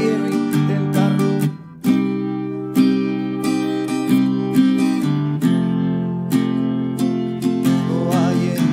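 Strummed guitar playing the chorus chords of a ballad, a steady rhythmic strum with regular chord changes, close and clear, alone without voice.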